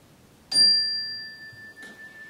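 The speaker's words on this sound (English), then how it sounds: "Just following the sound of the bell as it reverberates out through the earth" A bell is struck twice, each strike giving a clear metallic ring that hangs in the air and slowly fades, the second tone layering over the first.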